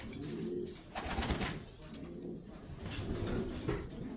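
Racing pigeons coo steadily inside a loft, a continuous low murmuring of several birds close by with no talking.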